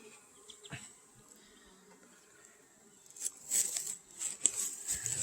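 Honeybees buzz around a hive being smoked, a faint hum at first that swells into a louder, close, busy drone toward the end.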